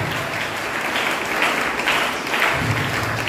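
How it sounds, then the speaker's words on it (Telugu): A church congregation at a Holy Mass claps loudly, a dense and continuous burst of applause that stays full and even from start to finish with no voices breaking through. "గట్టిగా కరతాళ ధ్వనులతో వారిని కుర్చీలో ఆశీర్వదించాల్సింది కోరుచున్నాము"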